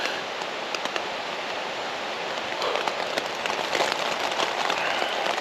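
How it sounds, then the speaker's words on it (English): Rain falling steadily in blustery weather, a continuous close hiss with scattered sharper drop taps and a slight swell in intensity toward the end, no voices. "I might just sit here and listen to the rain."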